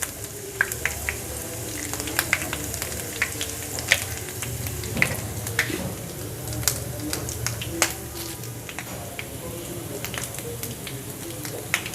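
Steady crackling sizzle of whole black peppercorns frying in hot oil for a tempering, with scattered sharp pops over a continuous hiss, fairly close and moderately loud.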